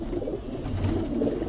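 Pigeons coo softly in low, rolling murmurs that repeat against a steady background hum.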